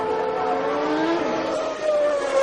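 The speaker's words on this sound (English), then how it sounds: "Mansell is starting to catch the McLaren Honda V12" Formula One race cars, including a McLaren Honda V12, roar steadily at high revs with a sustained rising and falling engine whine, loud and continuous throughout, with no talk over it.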